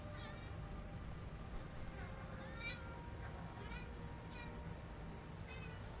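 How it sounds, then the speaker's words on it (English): A cat meows repeatedly in a quiet indoor setting inside the game Skyrim: Special Edition, several short rising cries spaced across the span, faint under a steady low background hum. "the cat just woke up from a nightmare"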